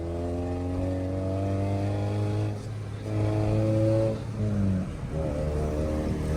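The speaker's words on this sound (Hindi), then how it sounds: "गाड़ी को रेसे दे रहे हो" A car engine revs hard and steadily close by, its pitch rising and falling across several throttle bursts with no talk over it, while the car sits stranded on a roadside after a battery failure.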